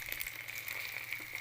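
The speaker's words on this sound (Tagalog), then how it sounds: "Piniprito ko na siya." Suman rice cake fries in a pan with a steady, fairly faint sizzle and crackle, continuous and close with small spitting pops, no talk.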